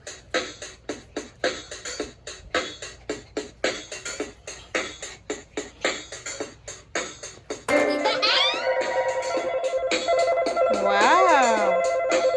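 A cheap kids' electronic toy phone plays a ringtone melody, tonal beeping notes that start suddenly midway and ring loud and steady, preceded by rhythmic clicking or tapping sounds.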